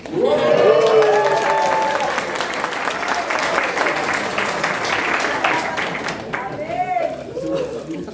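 A crowd applauds steadily through a discipleship training intensive in Pachuca, Mexico, a dense wash of claps holding at a fairly even level the whole time while a voice talks over it.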